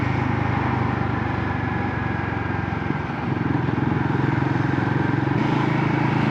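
A Royal Enfield Guerrilla 450 motorcycle drones steadily while being ridden, a continuous close engine hum with road noise and no break in rhythm.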